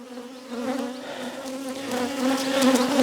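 A mass of honeybees buzzes inside an old barrel holding dark comb, a dense steady drone close by that swells gradually louder.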